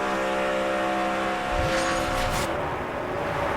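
A NASCAR stock car at practice roars steadily under heavy engine noise, then the pitch drops as the driver lifts off the throttle behind traffic, with other cars blending into the loud, continuous drone.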